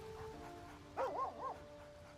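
Scratch the dog in Baldur's Gate 3 gives a short run of three quick, soft barks or yips, fairly faint and alone against a low game background.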